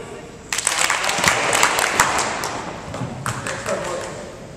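A burst of rapid hand claps while scarves are juggled, several sharp claps in quick succession that taper off, with people speaking around them.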